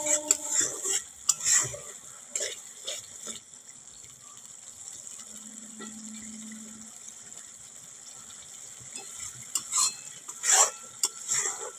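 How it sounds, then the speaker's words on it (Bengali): Spice masala being sautéed in oil for a salted sea fish curry, with scraping spoon strokes and a soft steady sizzle close by, no voices. "ভালো করে কষিয়ে নেব, একদম তেল ছাড়বে, তখন ভাববো মশলাটা ভাজা হয়ে গেছে"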